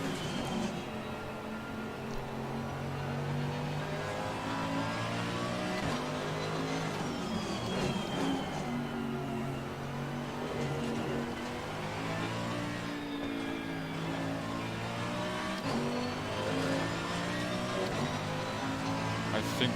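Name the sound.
race car engine revving under power oversteer, ACC video game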